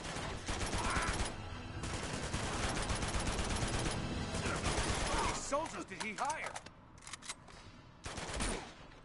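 Heavy gunfire erupts from several directions in the game Uncharted 2: Among Thieves, a dense run of rapid shots and bursts. It thins into scattered, echoing reports, then ends in a final flurry.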